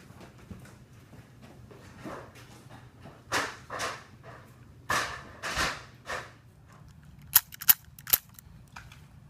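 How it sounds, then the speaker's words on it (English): Airsoft guns fire in a mock war: a scattering of sharp, separate pops and bursts, some near and loud, with a quick cluster of crisp shots toward the end and quiet gaps between. "Fine, we'll have the damn airsoft war."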